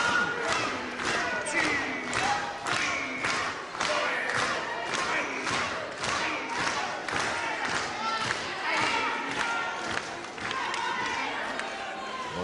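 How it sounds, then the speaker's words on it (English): Boxing arena crowd during the penultimate round of Terry Rudge v Lenny Hurst, a restless mass of voices and jeers with repeated thuds from the ring, continuous and fairly loud under a commentator's talk. "the crowd don't like it at all"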